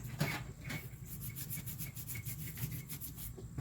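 Gunk being scrubbed off a 30-inch Murray riding mower with old gasoline, a close, steady rhythmic rubbing and scraping heard alone.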